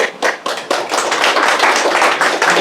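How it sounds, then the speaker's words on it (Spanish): A church congregation claps in a dense, steady round of applause that builds after a few scattered early claps, sounding close and lively. "Yo le doy un aplauso a Jesús."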